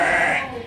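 A goat on a Mexican rancho lets out a single close, loud, wavering bleat that fades at the end.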